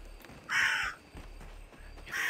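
Two loud crow caws, each a harsh burst about half a second long, cut through a quiet outdoor night with a low steady background hum; the second call starts near the end.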